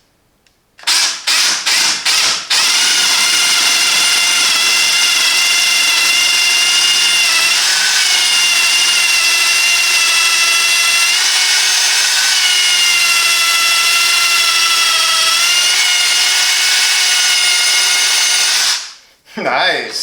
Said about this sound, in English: Now let's try at this wood, 14mm diameter the drilling bit